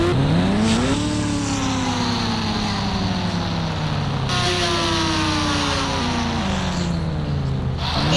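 KGF bike in the mobile game Indian Bike Driving 3D, its engine droning loudly and continuously, revving up and settling twice with rising and falling pitch, no talk over it.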